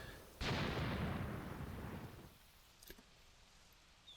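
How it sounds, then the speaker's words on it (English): A distant artillery ranging shot in the Graviteam Tactics war game booms once and rumbles away over about two seconds, followed by a faint click, a small pop and quiet ambience. "our artillery's still only ranging"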